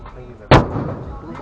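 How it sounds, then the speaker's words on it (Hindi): A sutli bomb firecracker goes off under a car in one sharp, loud bang, with a short rumbling tail afterward, set against background noise. "जब उनके गाड़ी के नीचे यह पटाखा फटा"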